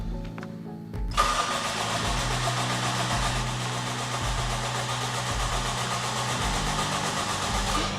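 A rebuilt Toyota Sera engine cranking over with a rhythmic starter churn, close and loud, the pulsing turnover continuing steadily for several seconds.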